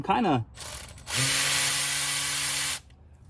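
A Milwaukee Insider pass-through ratchet drives a socket on spark plugs in a short, close whirring burst of about a second and a half, with a brief voice sound just before it.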